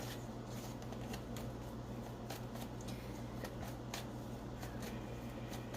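Tarot cards shuffled by hand in a quick, continuous riffle of soft papery flutters and slaps, close up over a low steady background hum, no voices.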